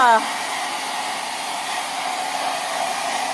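A hair dryer blows steadily to dry a freshly bathed dog, a constant even whoosh that runs without a break after a brief tonal start.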